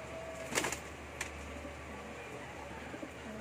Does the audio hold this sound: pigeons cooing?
yes